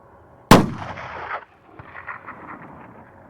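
A single loud, sharp rifle shot aimed at a small target 340 away cracks close by and rolls off in a long echo, followed by faint rumbling reverberation.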